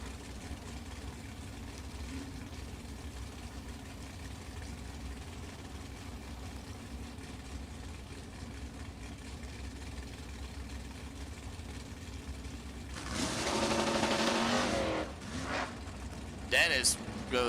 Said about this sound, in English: 400 cubic inch Chevy motor for Dennis.